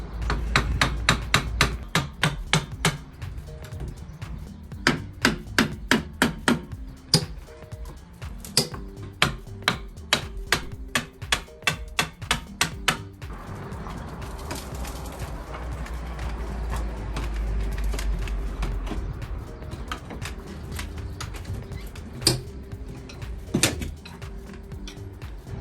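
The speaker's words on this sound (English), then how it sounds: "I'll dismantle the table using the tools at my disposal: 2 screwdrivers and a hammer." Dismantling an old table with two screwdrivers and a hammer, with a clear run of sharp, evenly spaced hammer knocks in bursts, then scraping, rattling handling noise and a few scattered thumps, all close and without talk.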